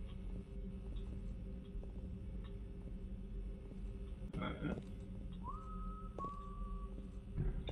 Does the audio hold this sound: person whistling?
yes